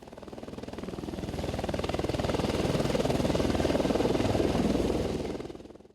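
Helicopter flying over Lunana in Bhutan, a steady loud rotor chop and engine drone with a rapid even beat, holding close and strong for most of the span before fading out at the end.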